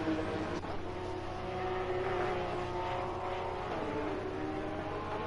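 Race cars lap a circuit in Assetto Corsa Competizione, with engines droning and revving continuously at close range, several cars layered together in a dense, sustained roar.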